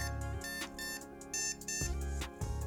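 A DIY hydration reminder collar beeps in a quiet room, with short electronic tones repeating in a steady, regular pattern, faint and close.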